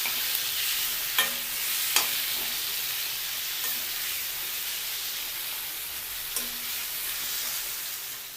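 Tomatoes and tamarind fry in a pan for tomato peanut chutney, a loud continuous sizzle and hiss with occasional scraping stirs and clinks of a spoon against the pan.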